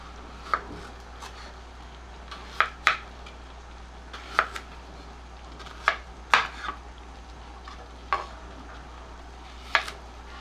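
Unripe, just-ripening bananas are sliced with a knife for Surati undhiyu, giving a series of sharp, close clicks and taps spaced a second or two apart over a faint steady hum.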